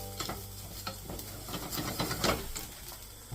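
Rice and onion sizzle in a hot pan while a spoon stirs them in repeated scraping strokes, close and steady over a constant frying hiss, without talk.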